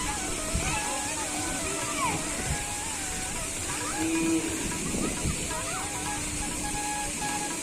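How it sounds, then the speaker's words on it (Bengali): Water from a fountain in a Jagannath temple courtyard in Newtown, Kolkata, splashes and sloshes in a continuous nearby spray, with people talking over it. "এই সুন্দর ঝর্ণাটা সামনেই একদম রয়েছে"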